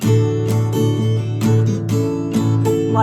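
A three-string guitar triad strummed repeatedly at a steady, moderate pace, each stroke ringing with a bright, slightly clashing tone, close and clear with no voices.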